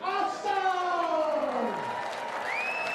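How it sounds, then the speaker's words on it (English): Crowd at a darts championship applauding and cheering under an announcer's drawn-out voice, with a whistle rising near the end. "a massive round of applause for Little Richard"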